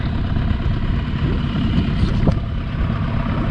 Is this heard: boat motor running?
yes